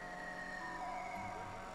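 Police car siren from a racing video game, a steady electronic wail holding level tones over engine and game noise, loud and continuous throughout.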